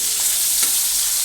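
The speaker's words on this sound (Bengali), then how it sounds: "মাছের যে তেলটা ছিল ওটা ভাজছি।" Oil left from hilsa fish fries in a pan, producing a brief, loud, steady hiss of sizzling close up with no voices.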